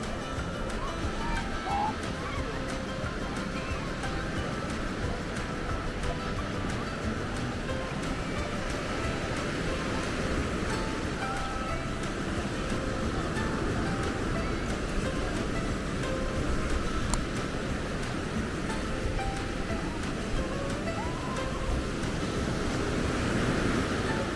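Ocean surf rolls continuously onto the beach at Carlsbad, California, a steady broadband wash heard from the shore with some wind buffeting the microphone and faint distant voices.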